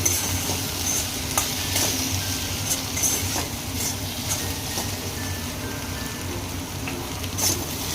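Okra fries with salt and turmeric in a pan on lowered heat, a constant soft sizzle and crackle with intermittent clinks and scrapes of a spoon stirring, close and steady throughout without speech.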